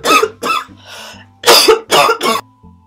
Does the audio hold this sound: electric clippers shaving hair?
no